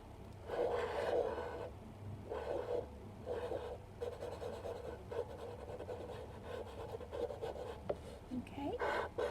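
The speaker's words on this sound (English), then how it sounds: "you would draw a big circle and then 2 little circles inside and then color around" Repeated scratchy strokes of drawing and colouring cartoon eyes onto a pumpkin's surface come close, in separate bursts with short gaps between them.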